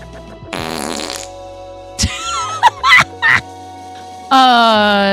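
Several fart sounds in quick succession, short loud raspy bursts with pauses between them, ending in a longer buzzing one, close and clear with no talking over them.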